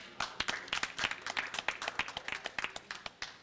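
Crowd at a fair applauding prize-winning bakers: dense, continuous clapping from many hands, close and steady throughout with sharp individual claps standing out.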